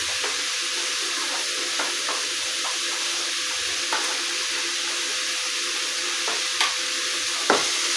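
Potatoes and onions frying in a kadai while being stirred give a steady, close sizzle, broken by a few soft scrapes and clinks of the spoon. No one speaks.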